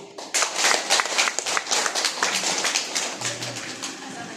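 An audience at a storytelling event applauds a speaker, with a burst of clapping that starts loud and gradually thins out over a few seconds, and a brief voice is heard toward the end.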